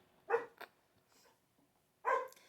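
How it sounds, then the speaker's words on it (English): Dogs bark indoors, two sharp barks followed by a longer one after a pause, fairly faint and a little distant in a quiet room. "Sorry about the dogs. I may have to let him in just so he'll stop barking."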